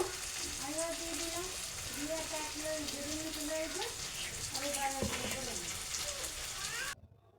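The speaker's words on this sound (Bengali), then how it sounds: "তো এদিকে তরকারিটা কষিয়েও নিচ্ছি ভালো করে" A potato and yogurt curry sautés in mustard oil in a pan, giving a continuous close sizzle and crackle that holds steady before cutting off near the end, while a person talks over it.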